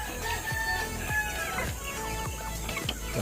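Chickens clucking on a backyard poultry farm, a large hen among growing chicks, a steady busy run of short repeated clucks close by with no talk.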